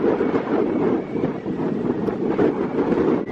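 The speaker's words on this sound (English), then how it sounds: "You can probably hear the crazy amount of wind." Strong wind buffets a boat on the Intracoastal Waterway, a loud, steady roar with gusty swells that fills the whole stretch, with no talking.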